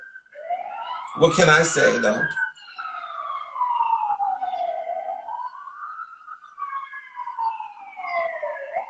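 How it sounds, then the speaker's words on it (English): Police sirens wail and sweep up and down in pitch across a Los Angeles city soundscape, with a brief spoken phrase near the start. "Sorry about the sirens."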